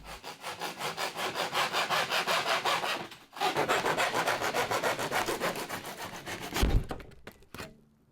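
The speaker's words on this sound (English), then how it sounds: "what I'm doing is cutting bits of pipe to the lengths of the different clamps I have" A length of pipe held in a vise is cut with a hand saw: loud, close, rhythmic back-and-forth rasping strokes, a brief pause midway, then more strokes ending in a thunk.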